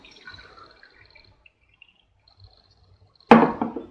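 Distilled water poured into a small jar, about 100 milliliters: a sudden splashing, gurgling pour starts late and runs loud and close for under a second after near silence with faint background noise.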